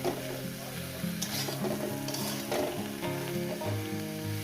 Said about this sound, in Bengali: এটা আমি চার পাঁচ মিনিট ধরে ভেজে নেব বন্ধুরা